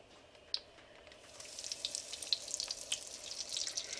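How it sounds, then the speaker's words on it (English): Floured, flattened pork tenderloin pieces frying in olive oil with a little butter, a steady soft sizzle that builds after the first second with crackling pops, close and alone. "I'm going to fry them in my usual combination of olive oil with a little butter for flavor"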